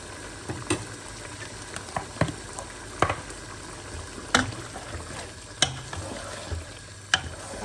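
Mutton frying and being stirred in desi ghee, a steady sizzle broken by repeated sharp scrapes and clinks of the spoon against the pan, close and alone.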